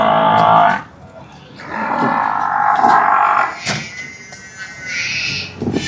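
Water buffaloes at a dairy farm give several loud, close moos, long drawn-out calls separated by short pauses, with some barn clatter in between.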